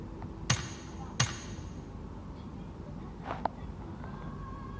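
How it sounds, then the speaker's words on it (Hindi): Hammering from construction work at a house: two sharp, fairly loud strikes about a second apart, then a fainter knock a couple of seconds later, over steady background hiss. "घर पे काम चल रहा है कंस्ट्रक्शन का?"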